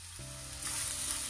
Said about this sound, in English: We'll add green onions.